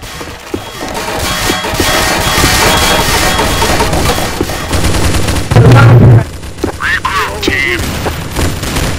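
Gunfire from Counter-Strike: Source zombie mod, with repeated shots and bursts, impacts and crashes in a busy game mix, with a loud blast around the middle and players talking over it.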